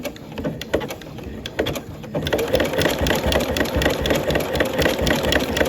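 Sewing machine with a side cutter attachment stitching fabric, starting with a few short stitches and a backtack before running straight; a steady close whirring motor with a rapid mechanical needle-and-blade chatter, no talking.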